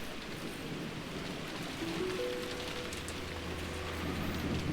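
Rain falls in a steady, soft wash during a cutscene of the Umineko visual novel game, with a faint low tone and brief chime-like notes drifting in midway.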